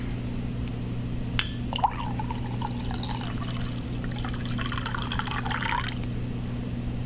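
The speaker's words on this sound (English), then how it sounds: "Let me pour myself some tea." Tea pours steadily into a cup for several seconds over a constant electrical hum, the liquid trickling and rising in pitch as the cup fills.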